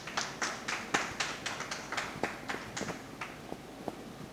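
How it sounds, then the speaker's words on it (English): Applause at a book launch for a short story collection, heard as a sparse, fairly quiet patter of individual claps from a small audience that tapers off toward the end. "she deserves a huge round of applause for that"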